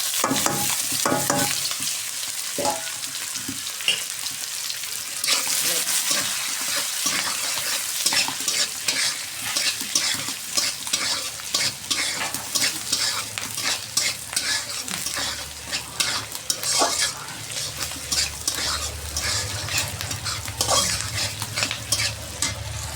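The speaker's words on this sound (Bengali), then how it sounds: "এর ভিতরেই আমি শাক ভেজে ফেলবো" Mustard greens stir-fried in a pan after eggs were fried in it: a loud, constant sizzle with busy, repeated scraping and clattering of a spatula, close up and without talking.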